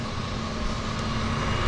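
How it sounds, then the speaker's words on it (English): Turbine aircraft engines at a downtown harbour airport produce a steady, broad roar with a faint underlying hum, gradually growing slightly louder and heard without any voices. "Okay, I hear turbine engines."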